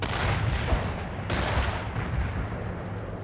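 Mobile mortar artillery fire in World in Conflict, a few muffled booms with a sharper crack near the middle over a continuous rumbling battlefield backdrop.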